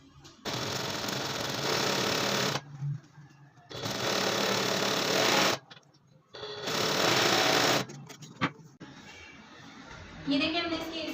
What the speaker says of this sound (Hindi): अब हम इधर सिलाई कर लेंगे।